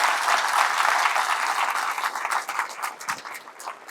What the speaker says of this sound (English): We should clap for him.